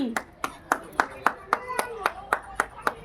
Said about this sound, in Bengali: একদম হাতে তালি, একদম। হাতে তালি।